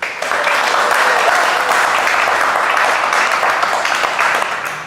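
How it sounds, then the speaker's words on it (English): A startup event audience gives a full round of applause, dense steady clapping from a crowd that swells quickly and holds loud for several seconds before tapering at the end. "A little round of applause, please."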